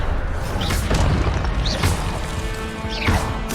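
Magic spell effects from the video game Hogwarts Legacy, a levitation cast among a dense run of booms, crashes and thwacks with rising whooshing sweeps, loud and continuous over a rumbling game backdrop.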